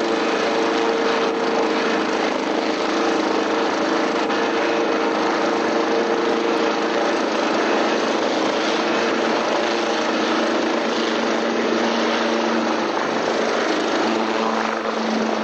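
A steady simulated helicopter sound plays in an aircraft simulation, a loud, continuous rotor and engine drone that holds unchanged throughout with no voices.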